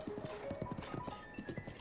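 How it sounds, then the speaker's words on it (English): Horse galloping at full speed in The Legend of Zelda: Breath of the Wild, a rapid, close run of rhythmic hoof clip-clops. "if you were standing that close to a horse, even that close to a horse that was like coming at you at breakneck speed"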